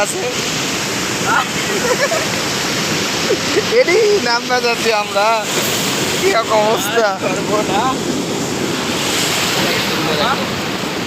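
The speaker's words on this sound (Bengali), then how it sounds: "জায়গায় অনেক স্রোত খুবই স্রোত" Strong water current rushes at a rubber dam in Dinajpur, a loud, constant roar and wash that fills the whole stretch while people talk over it nearby.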